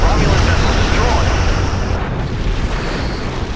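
A Romulan vessel explodes in Star Trek Legacy with a heavy, roaring blast. The rumbling boom starts loud and slowly fades, with a faint voice underneath.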